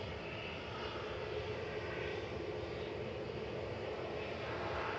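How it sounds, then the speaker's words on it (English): A World2Fly Airbus A330 flies overhead near Manchester Airport, a continuous dense jet roar holding steady and fairly loud throughout the short stretch, with no speech. "What's that going over by? Oh, World to Fly. A330 flight."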